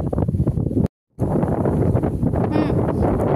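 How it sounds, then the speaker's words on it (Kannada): Gusty wind buffets the microphone outdoors beside a stove being lit for cooking sajjaka holige, a steady broadband roar with one brief dropout, close and loud. "ಒಲಿ ಹತ್ತದ ಒಂದ್ ದೊಡ್ಡ ಗಾಳಿನ ಬಾಳೈತಲ್ಲ. ಗಾಳಿ."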